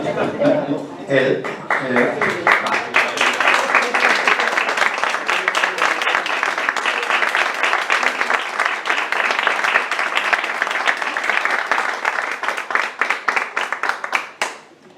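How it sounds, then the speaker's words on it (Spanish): Sustained crowd applause with dense, rapid clapping that holds steady for the full stretch, loud and close, fading briefly at the very end. "No marchéis sin darme un aplauso, que os estoy viendo."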